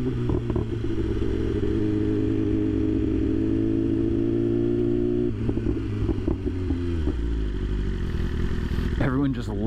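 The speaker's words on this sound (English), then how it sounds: "Everyone just looks because this bike is obnoxiously loud." A BMW M1000RR 50th Anniversary motorcycle runs loud and close with a steady, throaty drone, shifting pitch partway through before a sharp rev near the end.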